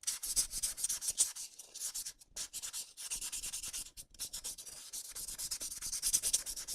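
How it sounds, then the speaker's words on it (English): Sandpaper scrubs over handmade landscape pieces in close, steady back-and-forth strokes, a hissing rasp with a couple of short pauses and no talking. "How loud is the sanding on stream?"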